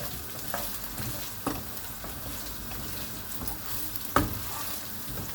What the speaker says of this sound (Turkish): Ben şimdi ben şimdi tereyağı attım.